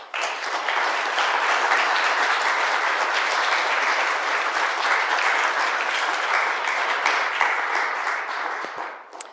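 An audience applauds steadily to welcome speaker Jennifer Butler at a Minnesota event, a dense, sustained clapping that stays loud throughout before tapering off at the end.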